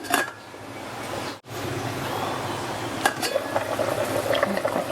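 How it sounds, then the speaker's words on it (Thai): A pot of chicken tom yum soup bubbling at a steady boil, with a brief clink of a lid or utensil and continuous gurgling that grows slightly busier. "นี้เราก็ปิดฝา รอเดือดอีกรอบหนึ่งค่ะ"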